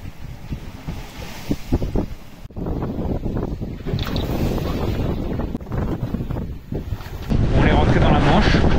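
Strong wind buffets the microphone at sea on a racing sailboat crossing the English Channel, mixed with rushing water along the hull; gusts swell louder toward the end.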